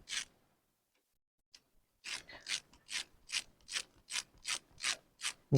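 A ratchet wrench unscrews bolts on a Lifan 200 CityR motorcycle with a quick run of sharp, evenly spaced clicking strokes after a short silence, close and clear.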